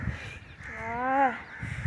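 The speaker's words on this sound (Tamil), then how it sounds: "காக்கா வேறு காத்துது" A crow gives one drawn-out, harsh caw rising and falling in pitch, clear and fairly close, with faint background noise before and after.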